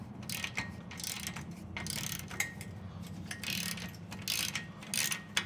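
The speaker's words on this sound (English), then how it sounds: "I have a ratchet here that's just going to be used to remove the old bolt" A hand ratchet clicks in quick repeated bursts while backing out an old bolt on a boat buckle tie-down, close and moderately loud, with no speech.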